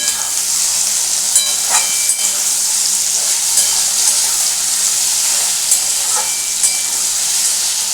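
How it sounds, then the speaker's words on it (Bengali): Potatoes with turmeric fry loudly in a pan, a strong, constant sizzling hiss up close, broken every second or so by brief stirring scrapes. "এটাকে একটু ভালো করে এখন ভাজবো"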